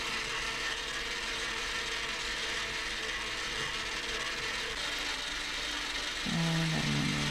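Electric mixer whisking Reese's cheesecake batter in a bowl, a continuous close whirring and rattling drone with a slight shift in pitch near the end, no voices.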